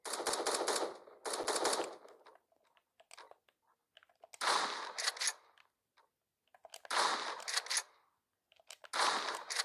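Gunfire in the video game 1v1.LOL: four loud bursts of rapid shots, each about a second long and separated by short quiet gaps, with no talk over them.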